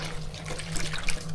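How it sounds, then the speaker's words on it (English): Clothes being hand washed in a sink under running water: a steady tap stream with sloshing and splashing, close and moderately loud, no talking. "hand wash my clothes quickly in the sink"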